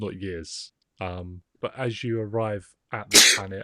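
A person sneezes once, a sharp loud burst near the end that comes right after a voice talking.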